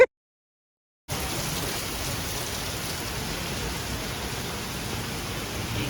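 After a second of silence, steady rain starts and falls evenly, a dense hiss that stays constant throughout, in Uganda.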